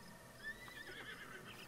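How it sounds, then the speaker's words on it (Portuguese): A horse whinnies in a Zelda video game, a faint, short neigh set against a low game background. "Lá vem um cavalo maluco ali."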